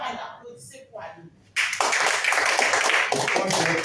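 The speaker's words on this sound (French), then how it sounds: "Mais chaque fois que Ali parle, applaudissez pour Ali." An entrepreneurship seminar audience breaks into loud, dense applause for the coach Ali, following a moment of quieter talk, and the clapping stays strong and steady to the end.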